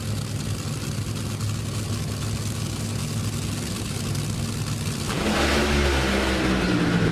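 An NHRA drag racing car at Brainerd International Raceway during 2024 qualifying, a loud steady engine roar that swells sharply near the end into a rising, louder blast, heard alone with no talk.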